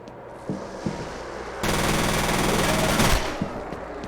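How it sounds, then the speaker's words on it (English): Rapid automatic gunfire in the shooter game F.E.A.R., a loud sustained burst of about a second and a half, with a few scattered shots and impacts around it and no talking. "I'm shooting them, but it doesn't seem to do anything."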